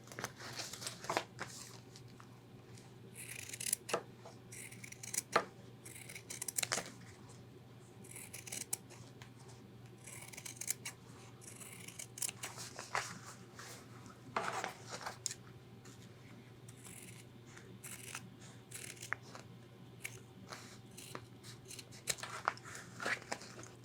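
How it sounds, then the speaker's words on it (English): Scissors trimming excess stretchy fabric while sewing an ultralight hiking backpack, with repeated soft snipping and rustling of the material, quiet and close with no talking. "Now we're going to take some scissors and trim off the excess."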